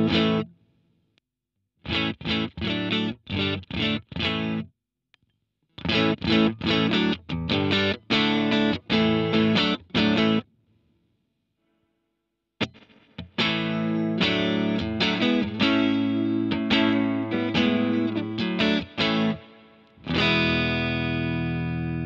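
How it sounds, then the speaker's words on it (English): Electric guitar played through a JPTR FX Kaleidoscope spring reverb pedal voiced like a 60s Twin Reverb amp: loud bursts of strummed chords separated by short silences, then a longer sustained passage with a washy reverb tail. "just a larger than life amp spring-like reverb"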